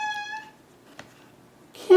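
A kitten meows once with a clear, high, slightly drawn-out cry, nearby and alone in a quiet room, followed by a soft tap and a brief rustle.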